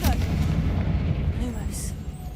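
A fiery Confringo spell blast in the Hogwarts Legacy video game, a booming explosive burst over a continuous low rumble that fades with scattered crackles.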